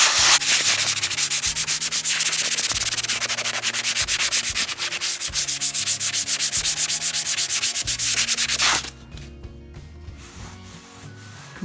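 Steady, rapid rasping strokes of sanding a finished surface, loud and close, then stopping abruptly near the end, leaving quieter scraping.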